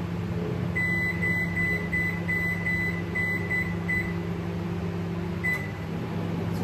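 A household microwave oven runs in a home kitchen with a steady low hum and a fan drone, plus a faint high tone that pulses on and off, continuous and close throughout.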